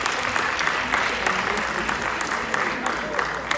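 A school class claps for the national flag during a civic-moment lesson, a steady dense round of applause filling the whole stretch at moderate loudness, with no voices standing out.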